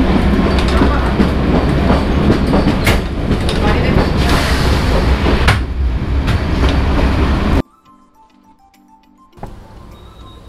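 Kalka–Shimla toy train running on its rails, a loud rumble with rhythmic clickety-clack of wheels for several seconds, then abruptly dropping to near quiet with faint ticking and a brief later bump.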